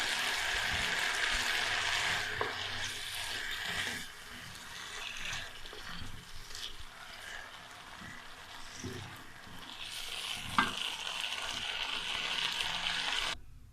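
Chicken goes into a pan of stir-frying vegetables for chicken and vegetable fried rice, and a continuous hissing sizzle rises and dips with a few soft knocks from stirring.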